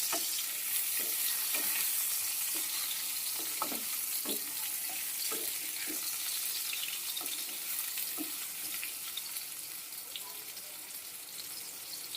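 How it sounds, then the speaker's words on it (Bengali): Pieces of pointed gourd fry in a pan, a soft continuous sizzle broken by scattered scrapes and taps of a spatula as they are stirred and turned, fairly quiet and close. "দেখো পটলগুলো নরম হয়ে গেছে উল্টো পাল্টে ভেজে নেবো একটু"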